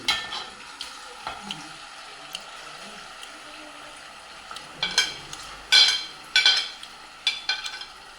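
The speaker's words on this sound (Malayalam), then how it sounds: "എണ്ണ ചൂടാകുമ്പോൾ ചെമ്മീൻ വറുത്തെടുക്കാം" Prawns sizzle in hot oil with a steady crackle, broken by sharper spattering bursts and the occasional clink of a utensil stirring the pan.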